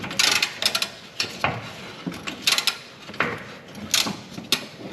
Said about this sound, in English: And now you can just turn the bolt and it'll start to come out.